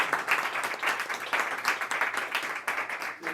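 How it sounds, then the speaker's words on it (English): Audience applause fills the room at an evening talk on voting reform, dense steady clapping from a crowd lasting throughout without a break. "big round of applause for Arend."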